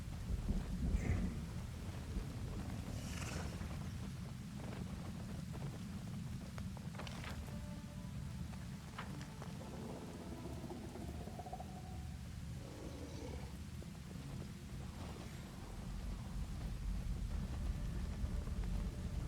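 In Pathfinder: Wrath of the Righteous, rain falls steadily through a storm while low thunder rolls in the background. The wash of rain stays even throughout, with a few faint rumbles and scattered ambient tones under it.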